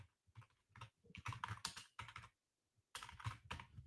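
Quiet close-up typing on a computer keyboard, clusters of rapid key clicks with a short pause before a final burst of keystrokes.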